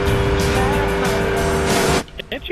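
A car roars loudly past in Saints Row 2, a dense engine and road rush lasting two seconds before cutting off abruptly, followed by faint scattered game sounds.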